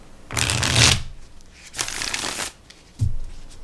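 Three bursts of Morgan Greer tarot cards riffling and snapping together, close and crisp, with short pauses between shuffles.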